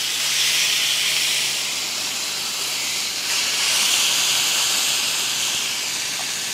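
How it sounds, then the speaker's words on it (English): Strip steaks sear in a hot pan, giving a loud, continuous hissing sizzle that swells and eases slightly over several seconds, with no voices. "Listen to that sizzle."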